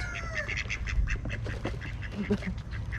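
Ducks quack repeatedly in rapid, overlapping bursts while eating, close by, with a few honking calls and soft background noise.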